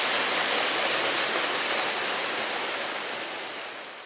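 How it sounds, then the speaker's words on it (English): Small waterfall beside a little bridge on the Manistee River Trail, a steady broadband rush of falling water, close and fairly loud, fading slightly at the end with no talk. "Now I'll be crossing this little bridge, and this is where a nice little waterfall is."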